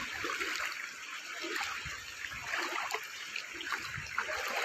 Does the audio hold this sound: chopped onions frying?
no